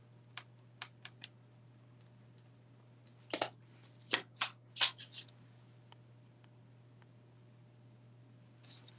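Tarot cards are handled and shuffled in quick, faint clusters of soft ticks and flutters, with a few louder riffles in the middle, over a steady low hum and no talk.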